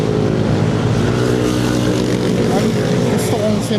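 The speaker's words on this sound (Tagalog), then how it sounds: "Mga motor." Motorcycles run along a curving stretch of the Marilaque highway, their engines a loud, continuous drone that holds steady for the whole few seconds, with no quiet gap between passes.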